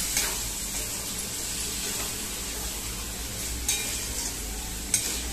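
Tomatoes tipped into a pan of sizzling capsicum and onion for pav bhaji, giving a steady close frying hiss with stirring scrapes and a few sharper clicks, no talking.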